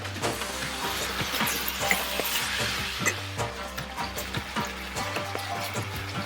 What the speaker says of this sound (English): Reserve the liquid for a while and let the beef and the spices cook.